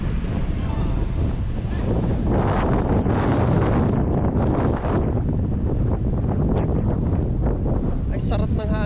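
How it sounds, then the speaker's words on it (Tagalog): Seaside wind at Zhunan Township rushes and buffets the microphone in a constant loud roar with surging gusts, with faint voices mixed underneath. "Ay, sarap ng hangin, no?"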